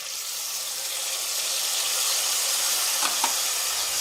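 Tomatoes hitting browned chicken in a hot pan for Indian dal chicken salan, a steady loud sizzle and hiss with a couple of brief stirring scrapes, no talking.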